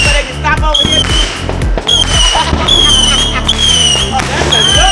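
Fourth of July backyard fireworks go off in a rapid run of sharp bangs and crackles, loud and close, with people talking and exclaiming in between.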